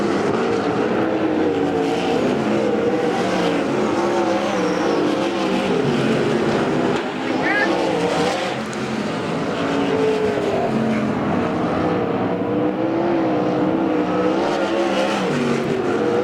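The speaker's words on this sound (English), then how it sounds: "That was Williams as the leader goes by. Here comes 2nd. Here comes 3rd" Sprint race cars roar past on the Central Arizona Speedway dirt oval, a continuous loud engine drone rising and falling as the leader and following cars pass in succession, with no talk.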